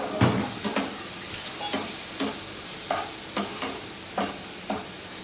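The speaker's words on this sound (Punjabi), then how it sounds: "ਮਸਾਲੇ ਨੂੰ ਨਾ ਚੰਗੀ ਤਰ੍ਹਾਂ ਮੈਂ ਭੁੰਨ ਲਿਆ।" Masala with green and red chillies roasting in a pan, stirred in a regular rhythm of scraping strokes, roughly a dozen, over a low, steady sizzle.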